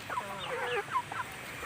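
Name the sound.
chicken clucking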